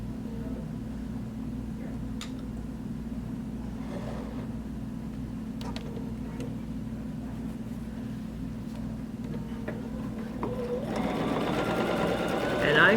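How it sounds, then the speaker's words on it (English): Sewing machine stitching a quilt petal during ruler work, a steady close mechanical hum and rapid needle drone running throughout, growing louder and busier near the end, with a voice speaking over it. "I'm going to stitch a petal in between the two petals."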